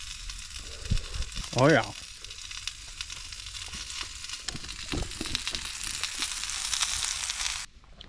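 Bacon sizzles over an outdoor cooking fire during a snowstorm, a faint steady hiss close by, with a brief spoken voice near the start.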